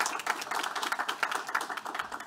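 Steady round of audience applause at a university honorary degree ceremony, many hands clapping in a dense, even patter that stays fairly constant throughout, heard from a moderate distance with no talk over it.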